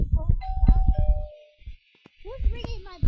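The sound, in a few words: doorbell ringing in a car-building video game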